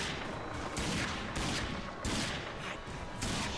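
Gunfire in the shooter video game Rage: sustained heavy rapid fire forming a dense, unbroken roar with periodic sharper bursts, loud and close, with no talk over it.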